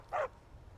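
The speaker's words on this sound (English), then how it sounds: "Here's our dog." A single short dog bark, brief and moderately close, rings out in a Skyrim game world against a quiet background.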